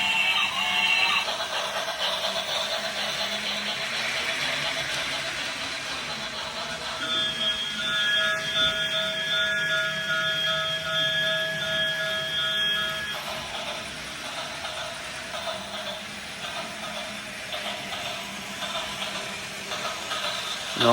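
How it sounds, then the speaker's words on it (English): A T.H.E. Trains retro-style toy train set runs on its track with a steady whirring, chuffing drone like a small steam locomotive, close and continuous with a few faint thin tones layered over it. "It sounds like a steam train."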